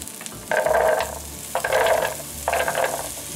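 Carrots sizzling in hot ghee for curry fried rice, with three distinct bursts of stirring and scraping in the pan over a steady frying hiss, close and clear.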